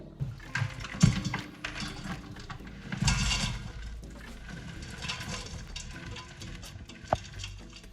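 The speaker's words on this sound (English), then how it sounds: "I'm going to put them in the Instant Pot and start sauteing" Frozen garden peppers and onions sautéing in an Instant Pot, with scraping and stirring, a few utensil clanks and a soft background sizzle, close and moderately loud, without speech.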